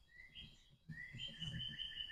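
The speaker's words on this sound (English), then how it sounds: "And thank you for the birds" Small birds chirp and whistle outdoors in short tonal tweets, a brief pause and then more overlapping calls, faint and at a moderate distance without talk.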